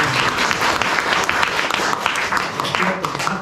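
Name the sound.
audience applause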